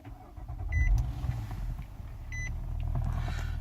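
A 2011 Nissan Maxima started with the push button, two short electronic chimes inside the cabin, then the engine catching and settling into a steady low idle rumble.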